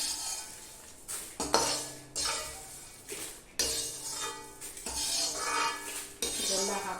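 Roasted chutney powder ingredients are tipped from a pan into a large metal cooking vessel, producing repeated clanks and scraping clinks of metal against metal in several bursts, close and fairly loud.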